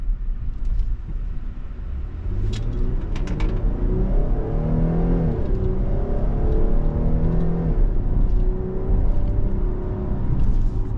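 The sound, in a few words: Dodge Durango GT SUV engine accelerating, 8-speed automatic shifting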